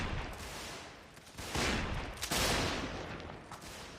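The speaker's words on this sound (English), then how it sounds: "it's very noisy over here right now. As you would expect in the battle." Massed musket gunfire in a Napoleonic-era line battle from a North & South mod of a medieval combat game: a dense, continuous crackle of volleys that swells louder partway through, with no voices over it.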